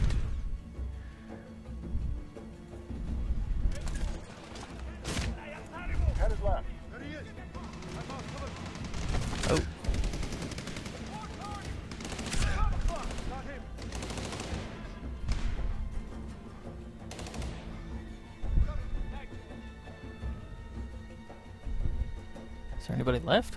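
Gunfire and heavy thumping explosions from the video game Medal of Honor: Warfighter burst irregularly through a combat scene, loud and dense, while players talk over the action.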